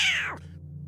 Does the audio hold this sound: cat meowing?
yes